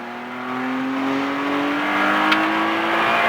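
A car pulling out of a corner on a race track, its engine note rising steadily and evenly under hard acceleration, fairly close and continuous with no voices.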